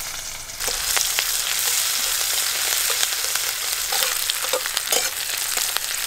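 Chopped onion hitting hot oil with panch phoron for fish curry, a loud, bright sizzle that bursts in after a quiet half-second and holds steady, with scattered crackles and stirring scrapes, no voices.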